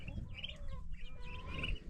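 Chickens cluck and call in a farmyard on a sunny morning, with turkeys nearby; the clucks come in short, scattered bursts over a steady low rumble of outdoor noise, moderately close but not loud.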